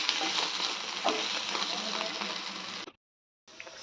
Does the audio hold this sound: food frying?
yes